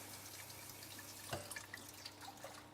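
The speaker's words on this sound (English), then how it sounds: "just pour the liquid off, give them a little rinse" Liquid drains from tinned food into a colander over a kitchen sink, a faint, quiet trickle with a few soft drips and splashes, no talking.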